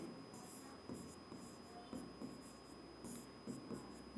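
A pen scratches softly across paper while a Hindi letter is written by hand, short strokes in small bursts, very faint and close over a quiet room hum.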